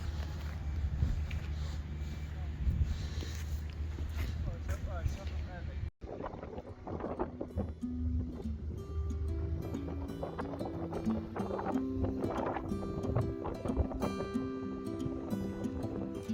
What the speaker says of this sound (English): as you can hear, it was very windy